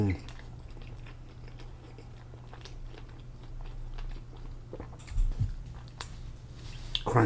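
Crunchy fried cod with coleslaw is chewed close up, with soft repeated bites and crunches over a low steady hum.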